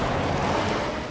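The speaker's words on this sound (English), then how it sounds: "Oh, what a beautiful waterfall." A cartoon waterfall heard as a dense, steady roar of rushing water, loud and close for a brief moment with no voices over it.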